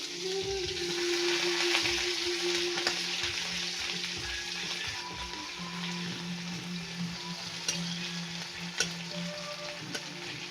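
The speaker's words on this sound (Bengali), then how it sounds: "তেলটা গরম আছে, আর পেঁয়াজগুলো এটার মধ্যে দিয়ে দেবো" Onions frying in a little hot oil for a boneless chicken, soybean and potato dish, a dense close sizzle with spoon stirs and occasional light clicks throughout, no talking.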